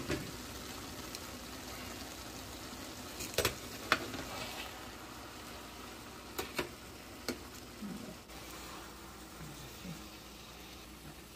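Rice for qeema pulao is stirred in a pot, with soft scraping and a few sharp clicks of a utensil against the pot over a faint, steady simmering hiss.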